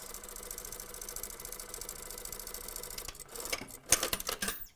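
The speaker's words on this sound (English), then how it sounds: "So we're putting a stay stitch up the top at 5 millimeters. So we're going to stitch that." A sewing machine runs a stay stitch along the top of a patch pocket on trousers, a rapid steady mechanical chatter for about three seconds that then stops, followed by handling and rustling of fabric.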